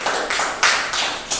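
An audience claps hands in a short, close, loud burst of about five evenly spaced claps, with no talking.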